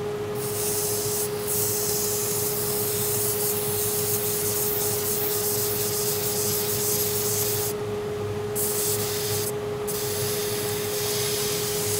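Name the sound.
hand sanding a knife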